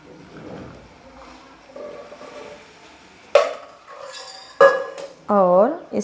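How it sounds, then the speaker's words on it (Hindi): Masala chai whisked and frothed in a steel pot, with a few sharp metallic clinks and scrapes against the pot's side, close and loud, separated by brief quieter gaps. "और इस चाय को मैं थोड़ा सा फेंट लूँगी इस तरह से"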